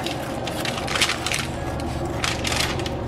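A knife cutting through a tray of no-bake Peeps cereal bars, with crisp crunching and scraping bursts over a steady low background hum.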